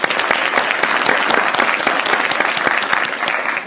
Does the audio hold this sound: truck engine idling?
no